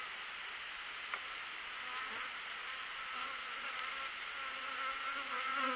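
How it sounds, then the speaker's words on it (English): A steady, dense hum of many bees buzzing close by in an open hive, continuous throughout with slight swells in intensity. "There's a lot of bees in here."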